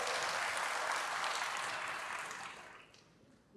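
A church congregation claps together in sustained applause, loud and dense at first, then thinning and fading toward the end.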